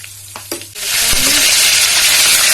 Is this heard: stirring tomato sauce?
yes